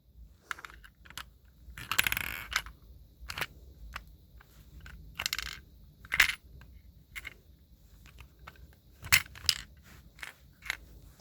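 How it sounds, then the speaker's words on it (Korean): A LEGO chocolate vending machine clatters as a 50-won coin is fed in, with a series of close plastic clicks, rattles and a coin drop spread over several seconds in a quiet room. "근데 50원은 크기가 딱 맞아서 초콜릿을 뽑을 수 있어요."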